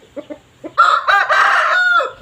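A rooster crows once at a cockfight, loud and close, after a few short clucks and calls.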